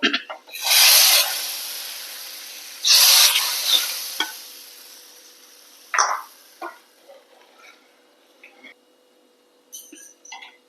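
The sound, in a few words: tempering poured into pumpkin curry, sizzling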